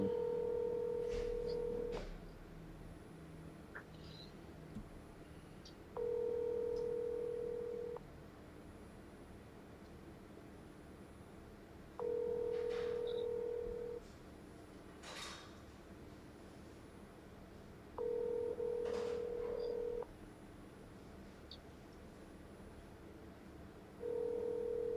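Phone dialing and ringing while calling a house seller: short tone bursts of a ringback signal repeat every few seconds, steady and clear, with faint noises and occasional soft voice in the background.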